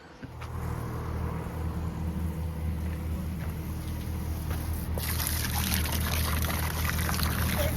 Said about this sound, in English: So we're just going to do them a quick pump out.